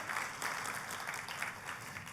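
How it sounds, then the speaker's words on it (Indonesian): A church congregation applauds during a sermon, a steady, fairly faint and distant wash of clapping with no one speaking over it. "tepuk tangannya yang paling meriah buat Tuhan kita"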